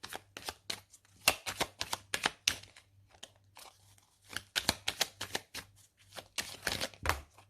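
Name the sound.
tarot cards being shuffled and drawn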